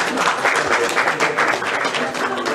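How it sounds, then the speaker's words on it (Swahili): A crowd applauds at a PAA party handover event in Kenya, a steady wash of clapping from a gathered audience, fairly loud and continuous throughout with a faint murmur beneath. "Makofi tafadhali."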